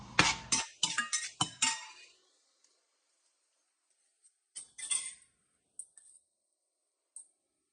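Sliced onions tossed into a kadai of hot oil and melted butter for pav bhaji, a burst of clinking and scraping followed by quieter scattered taps and clicks of utensils against the pan.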